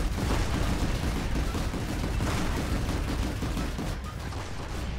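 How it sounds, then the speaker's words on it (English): Continuous gunfire in the Planetside 2 video game, with dense overlapping shots forming a steady loud barrage with no breaks throughout. "I'm being shot!"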